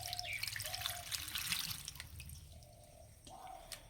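Pumpkin flowers being rinsed in water, with soft splashing, trickling and dripping sounds, quiet and close, rising and falling in short bursts.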